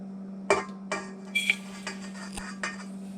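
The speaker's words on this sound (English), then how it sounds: "We will add some sugar" Sugar going into a mixing bowl for chocolate banana bread, heard as a handful of light clinks and taps of a utensil against the bowl over a steady low hum, with no talking.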